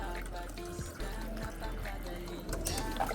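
Water trickles and splashes into a container for pet pigeons in a loft, a soft continuous pouring with occasional knocks and clunks, while someone speaks quietly nearby.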